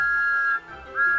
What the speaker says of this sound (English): Thomas blew his wonderful whistle loud and long